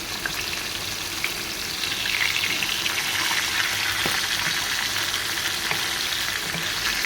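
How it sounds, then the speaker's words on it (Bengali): Tilapia fish frying in hot oil, a continuous dense crackling sizzle that stays close and fairly loud throughout, with occasional small pops and no voices. "এইভাবে ইঞ্চিয়ে পাল্টে দিয়ে মাছগুলো ভেজে নেবে"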